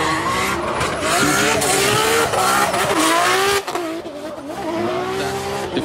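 A drift car at a Formula Drift event in Florida blares a loud, raspy exhaust note, its revs climbing and wavering with tire squeal, close and sustained, easing off briefly before building again.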